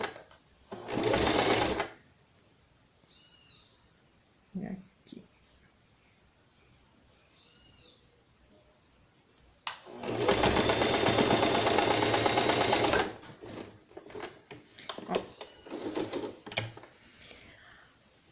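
A sewing machine stitching a small raglan dress for a pet runs in short, fast bursts of rapid needle chatter, with someone speaking quietly in the pauses between runs.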